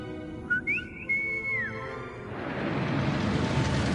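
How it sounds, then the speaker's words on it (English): Whistle in the Hogwarts Legacy video game, a clear rising then sustained tonal note with a brief upward flick. It is followed by a building steady rushing noise. "No, just by a whistle."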